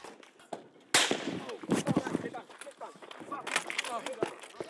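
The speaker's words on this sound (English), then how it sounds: "And sprayed our vehicle with bullets." Gunfire from Gaddafi troops about 70 metres away strikes a vehicle, with a sudden loud burst of sharp cracks followed by scattered shots and bangs over several seconds, close and chaotic.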